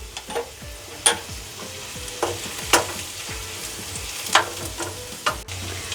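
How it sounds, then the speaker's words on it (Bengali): Onions sizzle and fry in a pan while egg tarka is being cooked, with a steady hiss broken by repeated clicks and scrapes of stirring, close up and with no voices. "দেখো আমার পেঁয়াজগুলো লাল লাল করে ভাজা হয়ে গেছে।"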